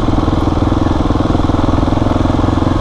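A white diesel replacement delivery van belonging to the postman idles nearby, a loud steady engine chugging with a fast even pulse and no break.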